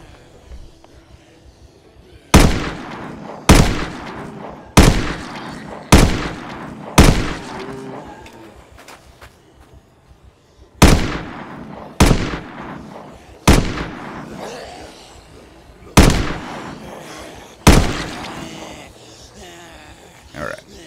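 Gunshots from the Project Zomboid video game ring out loud and close, about a dozen sharp single reports in uneven bursts, each fading with a short echoing tail.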